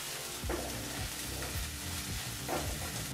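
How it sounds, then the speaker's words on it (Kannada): Onion with crushed ginger and garlic frying in a pan for a chicken gravy, a dense continuous sizzle with a few stirring scrapes, close and fairly loud. "ಈ ರೀತಿ ಶುಂಠಿ ಬೆಳ್ಳುಳ್ಳಿನ ಸೇರಿಸಿ 1 ನಿಮಿಷಗಳ ಕಾಲ ಮತ್ತೆ ನಾವು ಈರುಳ್ಳಿ ಜೊತೆ ಫ್ರೈ ಮಾಡ್ಕೋಬೇಕಾಗತ್ತೆ"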